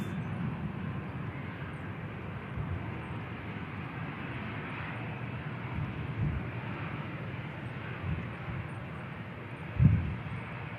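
A jet airliner on final approach to Manchester Airport gives a steady, distant broadband roar that holds throughout, with a brief thump near the end.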